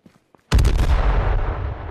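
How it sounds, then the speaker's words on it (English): A single loud, close explosion booms in Fortnite or H1Z1 gameplay, hitting suddenly after brief quiet and leaving a long rumbling decay. "Did you guys hear that explosion?"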